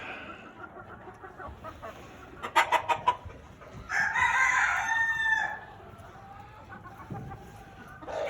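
Large fowl Mottled Chocolate Houdan chickens in breeding pens cluck in a quick burst of rhythmic calls, followed by a loud, close crow over soft background noise.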